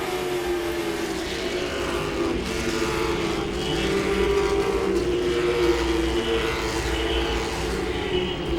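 Late model stock cars roar around Langley Speedway during a twin 75-lap feature, a continuous loud engine drone with rising and falling passes throughout.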